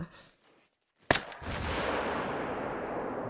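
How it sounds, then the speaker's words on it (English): A single sharp gunshot from a hunting rifle in theHunter: Call of the Wild, a loud crack after a near-silent pause, followed by a sustained rumbling echo and ambient wash. "Watch me shoot it with a pellet gun accidentally."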